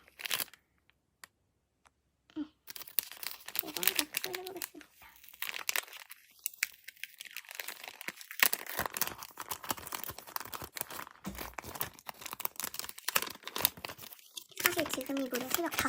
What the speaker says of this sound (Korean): 이 스티커는 어떻게 뜯어야 잘 뜯어지지?